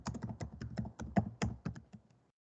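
Fingers type on a computer keyboard while entering data into an Excel spreadsheet, a quick irregular run of close, soft key clicks that slows and stops after about two seconds.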